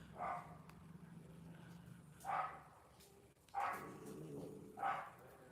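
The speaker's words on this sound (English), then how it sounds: "I'm preoccupied because the dogs bark" Several dogs bark in separate bursts, about four loud barks spaced a second or two apart, close by, over a quiet room with low background hum and no talk.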